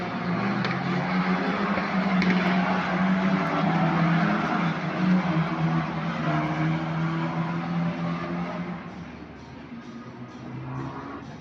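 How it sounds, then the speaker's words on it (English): Formula 1 race car engines at a race circuit in the morning, a continuous loud roar of engines at a distance, with the drone holding steady before fading slightly toward the end. "love the sound of banging engines in the morning"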